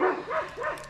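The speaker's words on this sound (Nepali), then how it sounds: "कुकुरहरू कराइरहेको छ है" Dogs give short yelping barks, about three quick calls in under a second, faint and somewhat distant.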